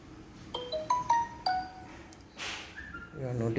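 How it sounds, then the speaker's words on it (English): A multi-note chime alert from an IoT gas and environment monitoring system plays as a quick series of bright pings, followed by a short whoosh and a soft voice-like murmur at the end. "So we will get the notification alert."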